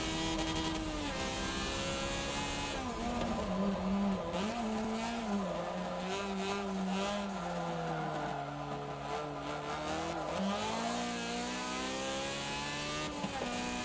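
A light race car of roughly 300 horsepower in Forza 7 on the Top Gear test track, its engine rising and falling in pitch as it accelerates and shifts, with a steady loud drone and brief tire noise, no talking.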